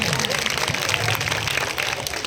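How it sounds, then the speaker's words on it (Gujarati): Audience applause after a Gujarati folk drama performance, a steady, dense wash of clapping that holds at even loudness for the whole stretch, with no break and no voice on top. "જોરદાર તાળીઓ થઈ જાય"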